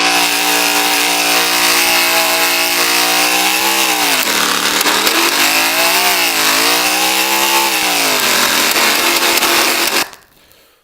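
A car engine revs from outside the vehicle, a loud, muffled drone that swells and dips in pitch a couple of times mid-way before cutting off abruptly near the end.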